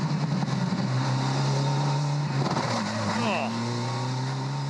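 Formula 4 race car clipping the tyre bundle and hitting the wall during a race in Sydney: steady loud engine drone, then a dull impact and scraping noise, under a commentator's voice.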